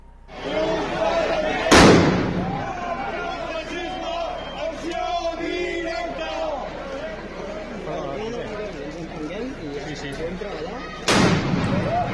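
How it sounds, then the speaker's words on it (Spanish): Firecrackers hurled at police during a street protest, two sharp loud bangs several seconds apart ringing over a noisy crowd of shouting and chanting voices. "lanzando petardos contra los Mossos de Escuadra"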